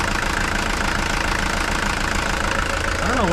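Mercedes diesel engine that won't shut off, running steadily and loud up close with a rough, knocking idle throughout and no pause.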